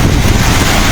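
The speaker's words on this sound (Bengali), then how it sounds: "এই যে এখনো তুফান চলতেছে।" A violent storm wind during a Baishakhi squall in Kasba, Brahmanbaria, roaring loudly and continuously, buffeting the microphone with heavy low rumble for a brief burst.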